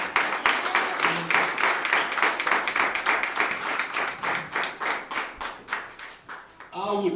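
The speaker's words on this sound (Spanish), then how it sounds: "let's give a big round of applause to God" A church congregation at a first-anniversary service claps in a fast, steady rhythm together, loud and roomy throughout. A voice rises over the clapping just as it ends.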